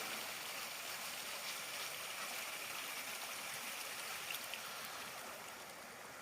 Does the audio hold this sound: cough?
no